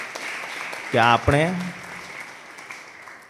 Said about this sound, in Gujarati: આ તાળી પાડવા જેવી વાત છે